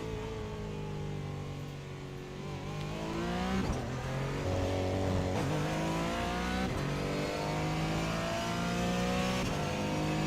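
A race car engine in the iRacing simulator accelerating out of the pits, a loud steady engine tone rising in pitch through several gear changes with no talk.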